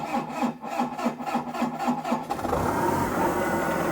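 A diesel engine with glow plugs cranks in a slow, rhythmic churn of about a dozen turns. It then catches and settles into a steady running rumble.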